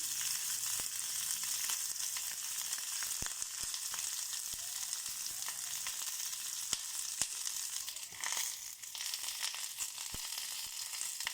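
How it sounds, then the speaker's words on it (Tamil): Onions and capsicum frying lightly in a pan give a steady, close sizzle throughout, with occasional sharp crackles and light stirring scrapes, no talking. "ஆனியன்ஸு, கேப்சிகம் லைட்டாக ஃப்ரை பண்ணிக்கலாம்"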